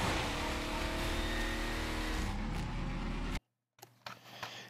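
Vehicle engine driving in Half-Life 2: Episode Two, a loud steady drone that runs without letup for over three seconds, then cuts out abruptly, followed by a few faint scattered knocks and thumps.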